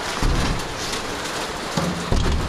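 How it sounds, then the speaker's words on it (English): Heavy rain pouring down as a dense, loud hiss on surfaces, with low rumbling thumps rising in the background at intervals. "wow, it is really raining"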